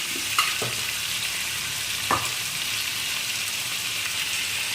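Brinjal pieces fry in a pan with a steady soft sizzle, while a few clear clinks and scrapes of a spatula stirring against the metal punctuate it, no one speaking.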